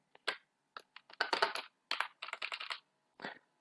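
Clicky keystrokes on a computer keyboard, typed in several quick bursts with short pauses between them, close and clear with no talking.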